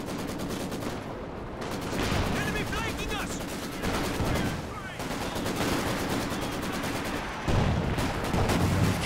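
Support guns and small arms fire in a Company of Heroes 2 2v2 match, a dense, continuous barrage of loud bursts and distant booms, with a voice audible underneath.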